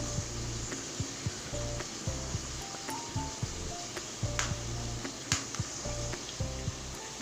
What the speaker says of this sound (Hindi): ये सारे मसाले अपनी दही में मिक्स करने।